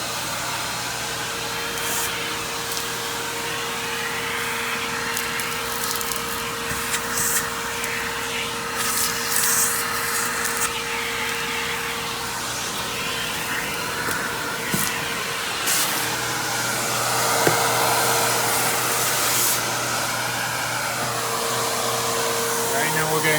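A Simplicity Symmetry Deluxe SYMDL.2 upright vacuum cleaner runs with a steady, close motor whine and airy suction rush throughout, its pitch shifting slightly as a wand and attachments are handled.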